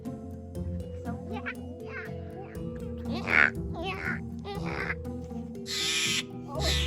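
A wild duck in Rocky Mountain National Park quacks several times in short bursts close by, while a person speaks over and between the calls.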